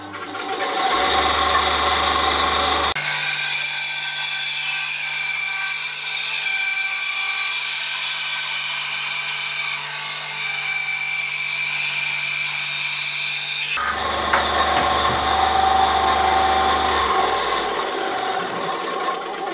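An Einhell TC-SB 200/1 band saw whines steadily while cutting a thin wood strip, a loud, sustained buzzing cut in the middle framed by the saw's idle running before and after.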